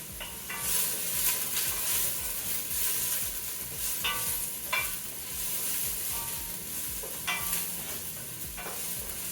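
Chopped onions sizzle steadily in a hot pan while a utensil stirs them, giving a bright close crackle broken by scraping clicks, with no voices.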